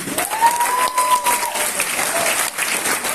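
Enthusiastic audience applause at a company sales meeting in India, loud sustained clapping from a crowd with a faint tonal whistle or voice rising over it, no clear talk.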